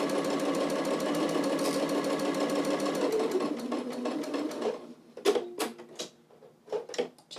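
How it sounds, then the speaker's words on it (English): A sewing machine stitching a French seam on fabric, with a steady rapid whirring stitch rhythm for several seconds, then a few short stop-start bursts as the seam ends with a back stitch. It is close and there is no talking. "So we'll just start stitching, do a back stitch, just like normal. And we'll stitch all the way down."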